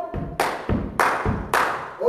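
A church congregation claps in a steady rhythm during worship, five or so sharp, loud hand claps evenly spaced with a faint voice underneath.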